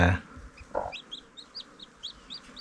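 A hen clucks in short, repeated bursts inside a chicken house, with a brief rustle at the start and chirpy calls scattered through.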